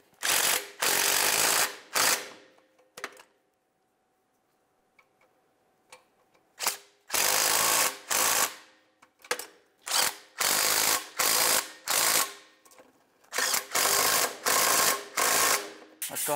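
Ratchet wrench clicking in repeated bursts while snugging new nuts onto an exhaust pipe flange of a 2011-2018 Volkswagen Jetta, close and loud, with short pauses between strokes and no talk.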